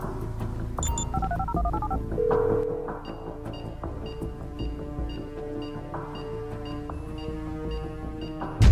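A phone in GTA V dials, with a quick run of touch-tone beeps at the start followed by a long electronic tone and a faint tonal line, set against a low game soundtrack.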